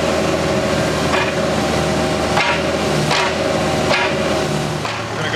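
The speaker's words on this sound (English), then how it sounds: "at high idle, you're going to see how fast this thumb opens and closes" Hydraulic thumb on a Cat E Series mini excavator opening and closing quickly at high idle, with a steady engine drone and repeated sharp clanks about once per second, close and loud.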